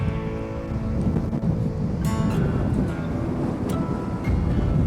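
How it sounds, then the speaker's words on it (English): Strong wind roars across an open beach on the Lost Coast of California, a loud, continuous low rumble with buffeting gusts and no speech. "it is super windy here"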